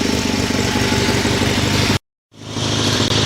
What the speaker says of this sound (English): So I'll turn up the throttle a little bit higher because I want it to charge a bit